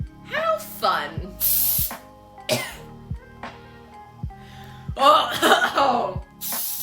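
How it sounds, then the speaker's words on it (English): Cooking spray with flour in it sprayed onto a baking pan for cornbread, several sharp hissing bursts in quick succession mixed with coughs, throat clearing and a nearby voice. "Now we're gonna spray our pan."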